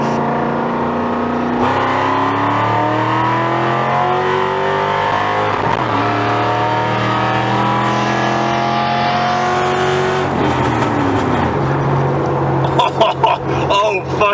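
Cobra sports car with a newly fitted exhaust revving hard, loud close engine roars rising and falling through several sweeps before sharper crackles at the end.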